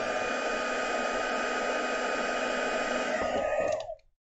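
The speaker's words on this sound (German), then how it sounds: "da puste ich noch einmal drüber mit meinem Föhn" A handheld hair dryer blows a steady, loud rush of air over a heat-embossed pop-up card for an Advent project, running continuously before cutting off abruptly near the end.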